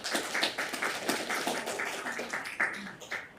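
Scattered audience clapping in a Santa Monica city council chamber: a moderate, uneven patter of hands that stays fairly steady, then thins out toward the end.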